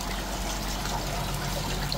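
Water trickles and splashes through a Volvo XC70 DPF soot filter, washing grey ash out in a steady, close, continuous pour without talk.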